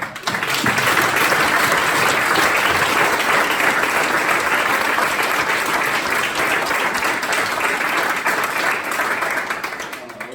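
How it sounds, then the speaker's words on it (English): An audience at a student event gives a loud, sustained round of dense applause. It holds steady for about ten seconds and then starts to fade at the end. "If everyone could just give another round of applause"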